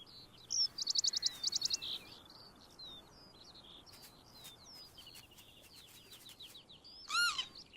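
Skylarks and other birds sing in the open country of Scotland's Western Isles, with a quick rapid trill early on, scattered chirps and warbles throughout, and a louder call near the end, moderately near with no talking.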